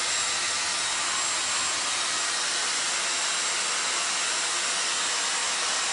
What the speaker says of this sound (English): we're gonna make a little noise again with the hair dryer